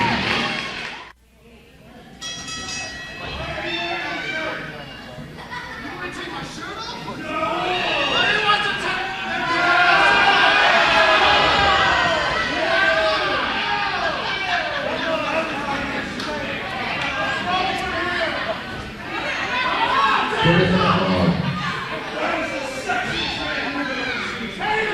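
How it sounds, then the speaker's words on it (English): A wrestling show crowd reacts in disgust as a wrestler strips off his shirt, a loud sustained groaning roar of many voices rising and falling for most of the stretch, with a brief lull early on. "That sound of disgust you just heard from the crowd was when David Forrest took his shirt off"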